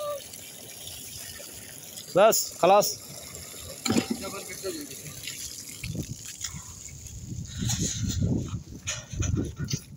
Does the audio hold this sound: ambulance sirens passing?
no